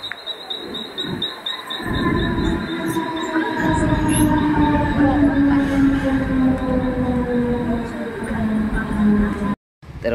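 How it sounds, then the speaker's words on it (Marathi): Passenger train pulling into Karjat station, a loud close rumble of wheels and carriages with a long metallic squeal and rising drone, a voice speaking over it at the start. "तर मंडळी आपली ट्रेन आलेली असा"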